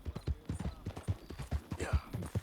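Horse hooves trotting in Red Dead Redemption 2, a clear, regular clip-clop of close, dull hoof strikes with faint voices in the background.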